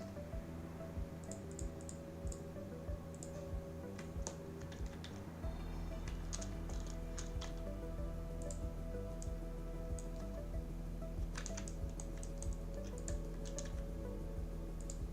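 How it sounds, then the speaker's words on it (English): Computer keyboard typing in a quiet room: irregular bursts of light clicking keystrokes, close and moderate in level, over a steady low hum, with no voices. "I'm gonna use the keyboard for this"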